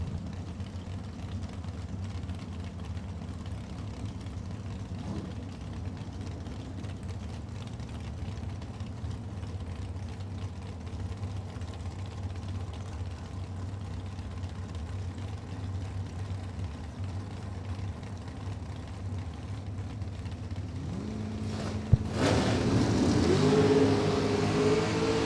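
A drag racing car idles and rumbles steadily at a distance for over twenty seconds, then the engine note rises sharply as the dragster accelerates hard, the roar swelling louder toward the end.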